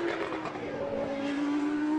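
A Group 9 vintage race car screams at full throttle on the last lap of an SVRA feature race at Watkins Glen, its engine note loud and sustained with a steady rising harmonic whine and no pauses.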